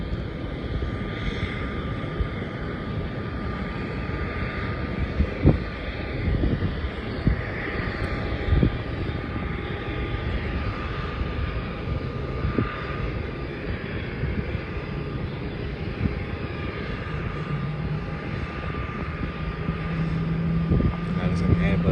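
An Airbus A330 airliner at Melbourne Airport produces a steady, moderately distant engine roar that continues throughout, with a few faint bumps and clicks nearby.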